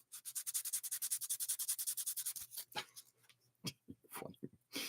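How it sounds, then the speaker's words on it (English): Rapid, rhythmic back-and-forth sanding strokes right up close, about twenty quick rasps, followed by a few slower, scattered scrapes. "Oh, you want the sanding closer to the mic?"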